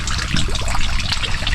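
Water carried by an extension hose from a hut about 180 meters away runs steadily into a container, making a continuous, fairly loud splashing trickle up close with no talking.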